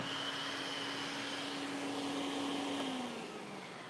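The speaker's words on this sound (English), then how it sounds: "We had a ghost vacuum come on there." A vacuum cleaner runs with a steady, even motor roar and a high whine across the whole stretch, its pitch sagging slightly near the end as the drone eases off; no one talks.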